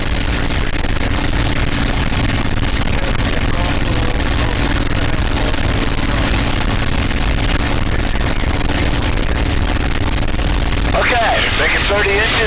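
A North American P-51 Mustang engine runs steadily and loudly during a magneto check, a continuous throbbing drone throughout, while a voice speaks over it.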